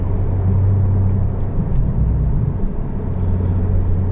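Engine of a 2019 Porsche 911 Turbo (991.2) with a steady, loud low rumble throughout, heard from nearby without anyone speaking.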